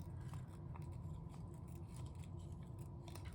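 Scissors cut slowly and smoothly through a book page, giving a soft, close, continuous scraping hiss with faint ticks as the blades close, quiet throughout with no talking.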